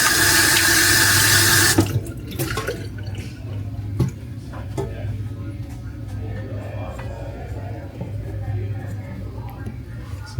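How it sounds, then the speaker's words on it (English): A faucet runs loudly into a washroom sink for about two seconds while hands are washed, then shuts off, leaving scattered drips, clinks and quiet household background. "Quick wash my hands."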